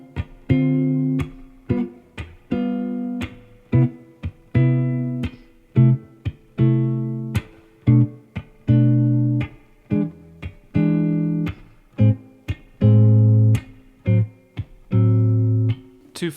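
Jazz guitar strums the chord changes of the first eight bars of a song, a ii-V-I progression, as a steady series of ringing chords, each struck cleanly and left to sustain briefly before the next.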